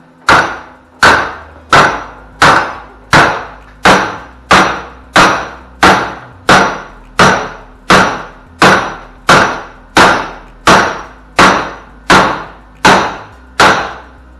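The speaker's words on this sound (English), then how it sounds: "We'll give it a little tap, see how our weld held up." A heavy hammer taps a MIG-welded steel piece clamped in a vise, with about sixteen sharp loud metallic strikes at an even pace of roughly one per second, each ringing out briefly, with no talking.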